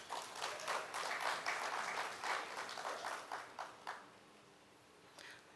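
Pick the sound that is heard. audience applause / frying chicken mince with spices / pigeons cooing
audience applause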